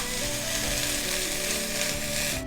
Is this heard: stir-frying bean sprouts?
yes